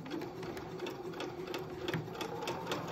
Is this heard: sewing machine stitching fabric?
yes